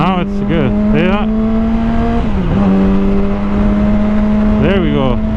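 Yamaha R6 motorcycle engine holding a steady idle-to-mid rev around 3,000-4,000 RPM, a continuous close drone with a few brief throttle blips rising and falling, with people talking over it.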